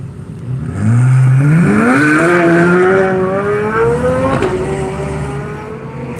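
A Corvette race car accelerates hard away from the line at Nelson Ledges racetrack, its loud, close engine note climbing steadily through the gears and holding a sustained roar to the end, with no talk over it.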